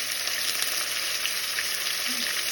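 Ginger garlic paste sizzles in hot oil for chicken liver bhuna, a steady, fairly quiet hiss that holds evenly throughout with no voices.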